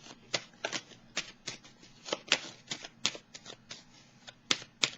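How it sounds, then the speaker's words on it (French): Tarot cards being shuffled and drawn, giving a run of quick, crisp riffling snaps and slaps at an irregular rhythm, close and fairly quiet, with no talk over them. "Je vais piger une autre carte ici."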